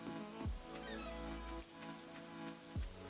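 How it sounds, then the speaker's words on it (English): Rain falling in the video game Stardew Valley, a steady soft patter spread across the whole stretch, with game sound effects and music tones layered over it. "Sometimes hard to tell with the rain"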